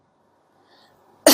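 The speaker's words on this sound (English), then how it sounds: "simply cough into your phone for 10" A person gives one loud, sharp cough into a smartphone for a lung health app, preceded by near silence.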